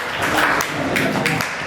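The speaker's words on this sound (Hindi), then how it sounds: "जरा तालियां" Applause from an audience at a farewell gathering for a teacher, a steady dense wash of clapping that fills the whole short moment at moderate loudness, with no talk over it.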